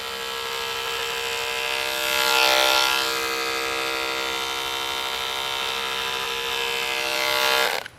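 Oster Power Max electric clippers buzz steadily while trimming a dog's fur into a comb-guided bear cut, a close, even motor whine with a slight swell in loudness partway through.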